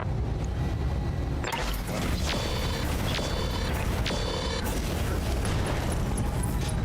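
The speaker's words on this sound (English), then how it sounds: "MRM 20 explosion." A loud, sustained burst of MRM 20 missile explosions in the BattleTech RogueTech video game, with several sharp crashes rising out of a dense, continuous roar.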